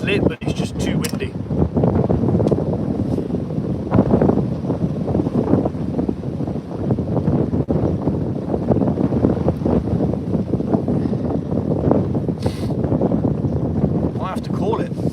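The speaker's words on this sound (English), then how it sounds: "It's lit, but it's just too windy." Strong wind blows outdoors at an open-air cooking spot, a loud, steady roar of gusts buffeting the microphone without letup.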